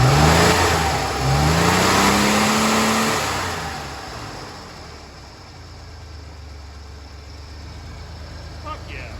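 An Opel Corsa car engine revs hard and climbs in pitch, then settles back toward idle without stalling, loud and close.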